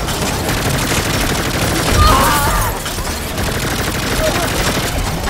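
Video game Saints Row combat with explosions and dense gunfire, loud and continuous crackling bursts, a heavier boom swelling around the middle, with speech faintly mixed in.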